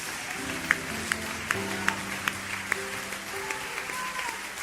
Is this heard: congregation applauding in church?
yes